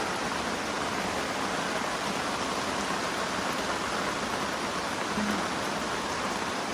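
Rain falls constantly by Lam Takhong, a thick, uniform rushing wash with no pauses, close and moderately loud, with no voices over it.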